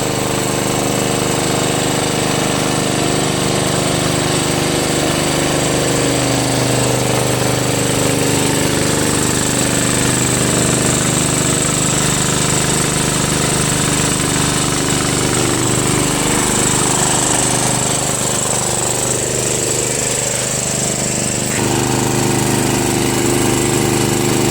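A Murray Select 13.5 riding mower with a 40-inch deck and a Briggs flathead engine with a stripped head bolt runs while driving, giving a loud, steady, rough engine drone that continues for the whole stretch with no talking.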